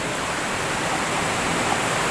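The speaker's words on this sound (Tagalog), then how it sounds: "So nakakapasok pa bahagya yung tubig." Water flows into a dug treasure-hunting pit as a steady, even rush, loud and close, with no voices over it.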